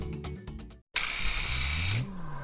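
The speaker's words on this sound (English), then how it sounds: "It sprays a 4 to 6 inch fan pattern for smaller surfaces such as windows, trim, and molding." Graco TrueCoat Pro II paint sprayer spraying a narrow fan for trim and molding: a few pulsing motor bursts, a brief silence, then a loud continuous hiss lasting about a second before cutting off, close and alone.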